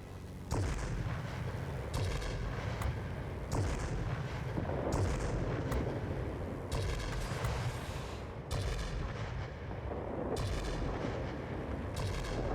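Cannon and machine-gun bursts from a Ta 152 fighter in World of Warplanes, a Tier VIII aerial combat game, come in repeated sharp volleys with short gaps between them, loud and close over a steady engine drone.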